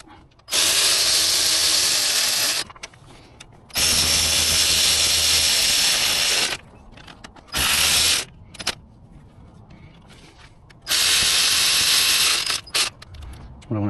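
Power tool snugging the alternator mounting bolts on a 2007-2014 Volvo XC90 runs in four loud bursts of a few seconds each, separated by brief pauses, close up.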